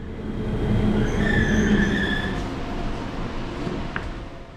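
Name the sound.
ITX-Maeum passenger train riding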